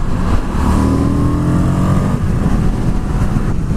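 A 2020 Indian FTR 1200 motorcycle pulls hard on a test ride, its engine loud and close, a rough rising roar with wind rush behind it.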